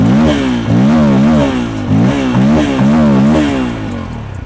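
A 2022 Bajaj Pulsar F250 motorcycle revs through its side-hung single-barrel exhaust with twin exits, giving a loud, close run of repeated throttle blips that rise and fall in pitch, with no talk over it.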